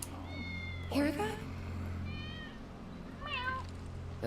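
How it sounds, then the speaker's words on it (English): A cat meows several times in Final Fantasy 7 Remake, clear separate calls with gaps between them, over a steady low game ambience and a person talking. "That's Wedge's cat."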